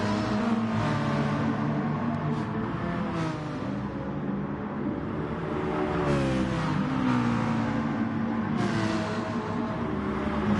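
Citroen race car in a racing video game roaring steadily down a straight, continuous engine note rising and shifting through gears under constant loud drone, with faint broadband bursts.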